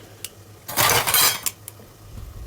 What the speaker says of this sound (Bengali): বাটিগুলো তো আমি একে একে ধুয়ে নিচ্ছি।